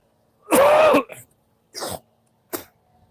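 A harsh, loud cough up close, then two shorter throat-clearing bursts trailing after it, with quiet pauses between.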